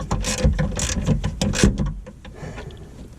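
Bolts on a car's C pillar brace are tightened with a ratchet, giving a series of close, loud clicking ratchet strokes in quick bursts that fade into quieter handling noise.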